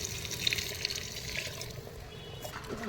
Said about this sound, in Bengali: এই গরম জলটা ঢেলে দেব